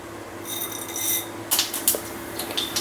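Mustard seeds splutter in hot coconut oil, crackling and popping in quick irregular bursts over a steady low stove hum.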